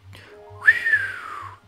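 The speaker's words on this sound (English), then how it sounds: "I let out an impressed whistle." A whistle in the video game Repeat, sliding up then falling in a long tone, heard alone over a low pulsing background hum.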